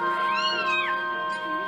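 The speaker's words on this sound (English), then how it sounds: "She is a cute kitty during the day, but at night she's like a little pest." Mia the cat from the video game Zelda: Skyward Sword gives one clear, drawn-out meow with a rising and falling pitch, close and alone over a soft steady background hum.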